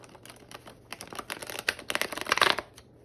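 A large deck of cards is shuffled up close, a rapid flurry of crisp papery riffles that builds in density and loudness before stopping, with no talking.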